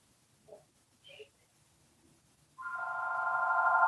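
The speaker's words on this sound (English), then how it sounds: "sorry about the phone." A telephone rings after two short faint chirps, its steady electronic bell tone starting abruptly and continuing loud and sustained to the end, with no talk over it.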